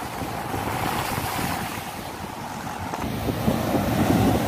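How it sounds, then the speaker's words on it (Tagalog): Strong wind roaring steadily across the microphone by Manila Bay, with a broad rushing blast and water washing in the background, no voices. "kasi napakalakas po ngayon ng hangin"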